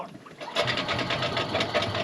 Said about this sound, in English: It's just the exhaust filling up.